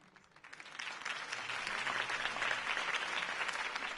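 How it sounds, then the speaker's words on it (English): Applause from a large crowd in the video game Batman by Telltale swells in and holds steady, a dense wash of clapping at moderate distance with no voices standing out. "could have heard that applause"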